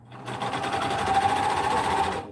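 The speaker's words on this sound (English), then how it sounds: "I do my seams on the sewing machine" A sewing machine stitches seams on a wrestling singlet, a steady, loud mechanical whir running continuously for a couple of seconds before it stops, close up with no talking.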